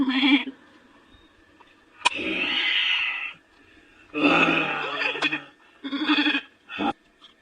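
A cartoon goat bleats several times in short, loud, separate bursts with brief pauses between them, heard close up with no talk over it.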